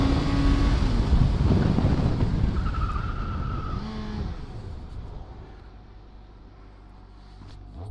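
Suzuki GSX-S 750 naked motorcycle (2019) revving loudly up close, with engine pitch climbing then dropping at gear changes as it shifts through second and third, amid heavy wind rush that fades toward the end.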